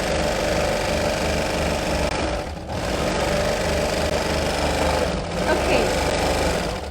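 A serger sewing machine stitches linen, a continuous fast mechanical whir and rattle close by, briefly dipping a couple of times as it runs.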